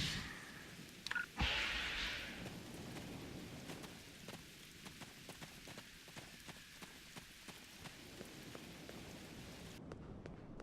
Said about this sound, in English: Wow, rain on Ryza?